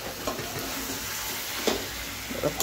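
Food sizzles while cooking on a clay stove (earthen chula), a steady frying hiss with a few soft stirring knocks and scrapes close by.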